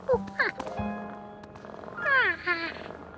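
A cartoon monkey playing at being a cat gives a few drawn-out, cat-like meows in a voice imitating the animal, with short low tones between them and a longer wavering meow near the end.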